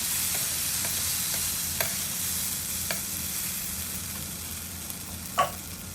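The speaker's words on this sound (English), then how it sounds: "After 3 minutes, we will remove the lid" Okra (bhindi) fry cooking in a pan, a steady hiss of frying with a few faint scraping stirs and one sharper knock near the end, close and even.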